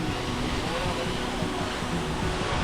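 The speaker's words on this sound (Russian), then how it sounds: "Вот такой шикарный, красивый водопад." Jeongbang Waterfall on Jeju Island, South Korea, fills the air with a constant, dense roar of falling water, loud and close, unbroken for the whole moment.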